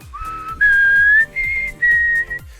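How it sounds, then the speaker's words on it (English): A melodic whistle of several sustained notes, rising and falling, close and clear against a soft rhythmic background. "Now, a simple whistle,"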